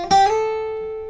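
Electric or acoustic guitar picks a short descending run of notes with a slide, from a song's interlude, two quick attacks then one sustained ringing tone, close and clear, no voice.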